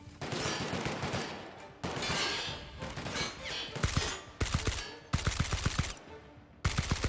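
Gunfire in combat in The Outer Worlds video game comes as bursts of rapid shots, loud and close. Brief pauses separate the volleys, and single heavy shots and rattling strings of fire alternate.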